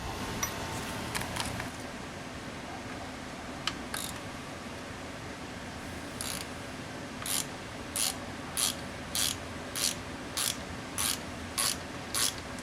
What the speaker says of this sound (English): We're going to put this in there with a 3/8 inch ratchet like that and break it loose